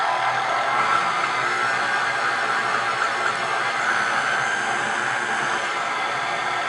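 An electric mixer runs on low speed, combining flour, sugar, salt and baking powder for vanilla cake, giving a steady, even motor whir throughout with no pauses or voices.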